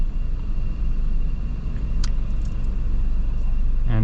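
A 2026 Range Rover Velar unibody SUV with a four-cylinder engine and independent suspension cruises on a paved road, giving a steady, even low rumble of road and engine noise from inside the cabin with a faint brief tick midway.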